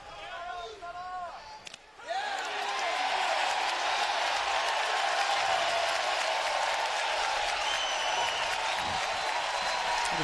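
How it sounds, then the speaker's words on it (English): Crowd of Ole Miss baseball fans at a college game against Arkansas lets out a sarcastic cheer after a pitch, a broad sustained roar with applause and whoops that swells and holds, with an announcer talking briefly over the start. "That is a rather sarcastic cheer from the Ole Miss fans."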